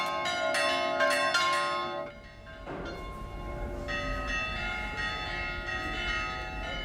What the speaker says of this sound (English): The tolling of the bells calls the whole community together.